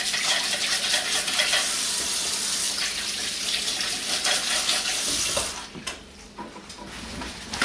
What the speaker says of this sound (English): I'm going to wash my hands for a second.